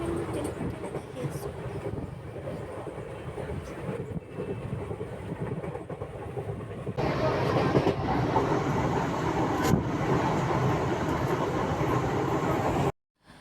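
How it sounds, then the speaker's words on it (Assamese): Steady rail clatter and rumble fill a moving passenger train, loud and continuous, swelling louder partway through with faint voices mixed under the noise before cutting off abruptly near the end. "ট্ৰেইনৰ টাইম হৈ আহিল ট্ৰেইনত উঠি দিলোঁ"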